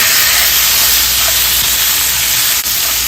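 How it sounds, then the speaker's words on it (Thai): Steady, dense hiss of pork belly frying in a hot pan over medium heat, a continuous loud sizzle with no pauses. "ก็ใส่หมูสามชั้นลงไปจี่เลยนะคะ"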